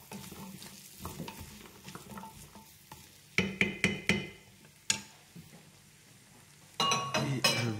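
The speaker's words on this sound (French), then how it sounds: "Je mélange le tout." Vegetables sweated soft and chunks of red kuri squash are stirred in a pot with a utensil, giving scraping, knocking clinks and a few sharp metallic taps over a low sizzle, with a clattering burst near the end; no one talks.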